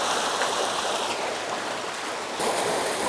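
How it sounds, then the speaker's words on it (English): Raw water rushes down a flume at a city waterworks, a dense, steady roar of flowing water that fills the space, close and loud with no voices. "The raw water that you saw coming down the flume flows into these chambers"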